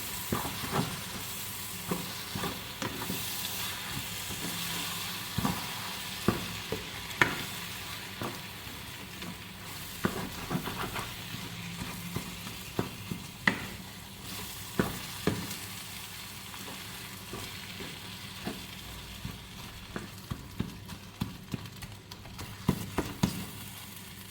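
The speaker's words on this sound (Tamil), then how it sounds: "போட்டு நல்லா மிக்ஸ் பண்ணிடுவோம்." Masala being stirred through a dish in a pan for a simple iftar recipe, with a steady frying sizzle broken by repeated scraping clicks of the spoon against the pan, close and continuous throughout.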